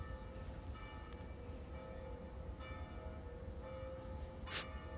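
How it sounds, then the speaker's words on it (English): Bells ring with sustained, overlapping tones over a steady rumbling background, with a brief hiss near the end. "as you hear these sacred bells ringing"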